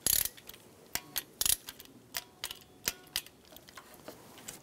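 Torque wrench tightening the variable valve timing solenoid bolt on a 2004-2009 Toyota Prius: a run of sharp, dry ratcheting clicks, irregular and close, some in quick doubled bursts, with no voices.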